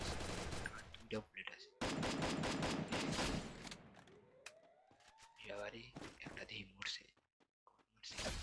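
Pistol gunshots ring out in the video game Free Fire as quick bursts of sharp reports, mixed with a rising siren-like tone and loud voices talking over the action.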